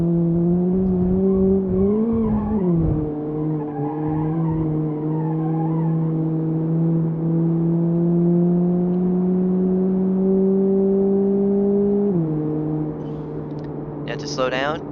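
Car engine in BeamNG Drive revving hard toward redline, a steady climbing drone that holds, then drops sharply as the gear shifts, followed by a brief high squeal at the end.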